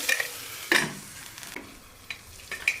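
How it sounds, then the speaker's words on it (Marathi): Tomato and onion cooking down in oil, a soft continuous sizzle with a few stirring scrapes and clinks, fairly quiet and close. "टोमॅटो शिजत आलेला आहे, एकजीव होत आहे तो कांद्यामध्ये"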